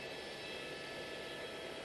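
A helicopter flies during an aerial search, giving a steady, loud, unbroken drone of engine and rotor noise close by for the whole stretch, with no talking.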